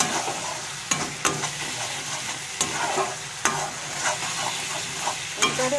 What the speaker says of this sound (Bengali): স্বাদ মতো নুন আর স্বাদ মতো চিনি দিয়ে ভালো করে নাড়িয়ে নিলাম।